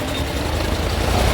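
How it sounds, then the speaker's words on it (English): A fire engine idles with a low, steady rumble that stays even and unbroken. "Fire engine there."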